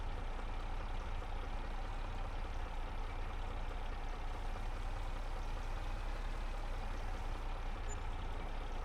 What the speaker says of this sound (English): Got to start the tractor, though, of course.